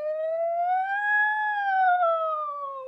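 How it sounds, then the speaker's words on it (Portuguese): An ambulance siren passes by in the street, one continuous loud wail that rises in pitch and then falls away again as it goes past, with no talk over it. "peraí que tem uma ambulância"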